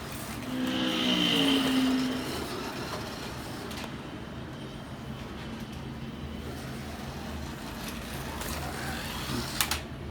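Scalextric slot car model of the Batmobile from The Batman running on its track, a steady buzzing motor whir that swells early then settles into a quieter continuous hum, heard alone.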